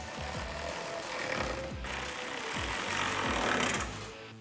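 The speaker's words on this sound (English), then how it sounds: "we're gonna take our T15 bit, we're gonna go ahead and tighten these down" A power tool with a T15 bit drives screws into tail lights on a 2014-2018 Chevrolet Silverado, giving a steady close-up buzzing whir with rhythmic pulsing that rises slightly near the end.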